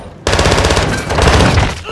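Sustained automatic gunfire from Modern Warfare 2, loud, close and continuous after a brief quiet start, with dense rapid bursts throughout.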